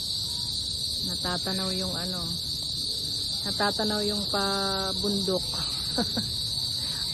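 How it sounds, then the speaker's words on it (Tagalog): Crickets chirp at dusk around a countryside hut, a steady, shrill, unbroken drone that holds throughout while a person talks over it nearby. "Naririnig na yung sounds ng kuliglig."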